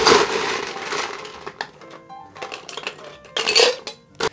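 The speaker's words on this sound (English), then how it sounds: "So in our big tin, we're gonna add some ice." Ice cubes go into a big metal cocktail shaker tin for a Madras cocktail, making a loud rattling clatter of cubes on metal in several bursts, with no one talking.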